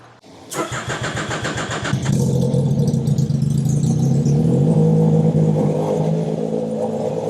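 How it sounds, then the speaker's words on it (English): A Legend race car engine cranks with rapid rhythmic churning, catches and fires up, then settles into a steady, loud idle close by. "we're gonna crank the car to get it warmed up"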